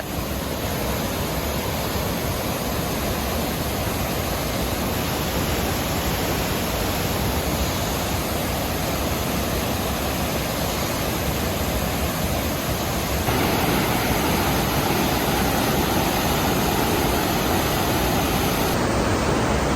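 High water rushing over Nanagana waterfall on a hill road in Sri Lanka: a loud, steady broadband roar that never lets up, with a slight lift in level near the end and no voices.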